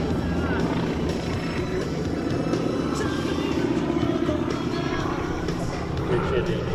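Geico Skytypers propeller planes maneuvering at an airshow in New York, a steady, continuous engine drone held at a constant level throughout, with a commentator talking over it.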